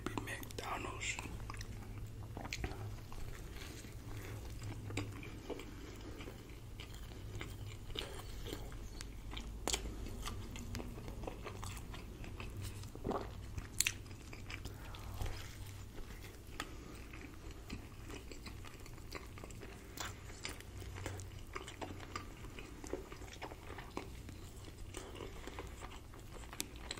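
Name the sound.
eating a McDonald's Filet-O-Fish sandwich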